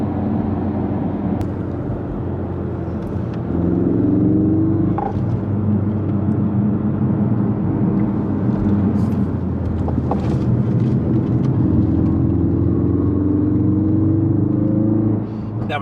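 A 2017 Ford Focus RS engine pulling hard through the gears, a steady low rumble whose pitch climbs and drops with each shift, heard from inside the car with voices around it.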